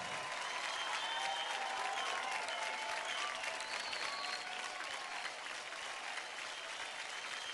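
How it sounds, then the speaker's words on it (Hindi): A studio audience at a dance show gives loud, sustained applause, a thick unbroken roar of clapping with a hint of crowd noise at steady volume. "जोरदार तालियां हो जाएं"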